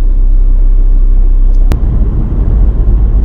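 A car drives steadily through a residential area, its engine rumbling low and continuous from inside the cabin, with a brief sharp knock partway through and the road noise roughening afterward.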